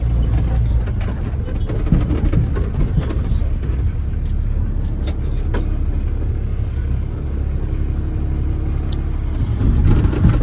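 A loader works a manure pile beside a haul truck, giving a steady loud diesel engine roar with rumbling low end and occasional clanks, close and continuous throughout.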